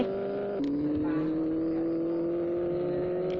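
Steady car engine hum from a driving video game, a continuous droning tone that dips briefly then climbs slowly in pitch as the vehicle accelerates, with no speech over it.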